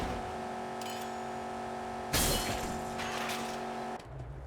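A glitched car engine in a video game hums steadily with a flat drone, a louder whooshing rush of engine noise swelling in midway before the hum drops away near the end.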